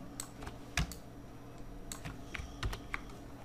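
Scattered clicking keystrokes come from a computer keyboard as short text is typed, a few quick taps with small pauses between, close and clean with no voices.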